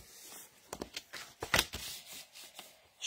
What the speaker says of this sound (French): Fait que je viens ici avec mon coupe-papier, je m'aligne pour que ça coupe dans le trou.